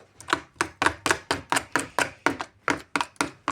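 Tzatziki ingredients with lemon juice being stirred in a bowl: a steady run of about thirteen crisp utensil taps and scrapes against the bowl, close and evenly paced, with no talking.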